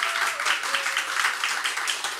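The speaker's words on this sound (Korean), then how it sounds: "우리 다 같이 환영의 박수 하도록 하겠습니다" A church congregation applauds in welcome at a Sunday service, dense steady clapping from many hands filling the room, continuous and fairly loud for a short stretch.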